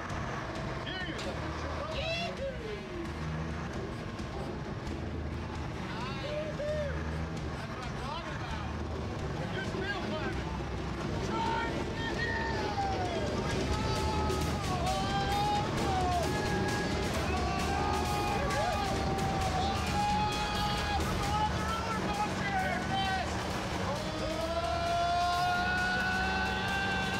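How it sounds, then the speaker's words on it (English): A modified tank powered by an upgraded turbocharged Detroit diesel engine drives with a continuous heavy mechanical roar and rumble, while people talk and shout over it throughout. "Power of that upgraded Detroit engine with the turbo on it that Andrew rebuilt was well worth it"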